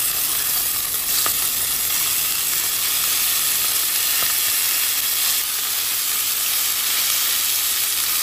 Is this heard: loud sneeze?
no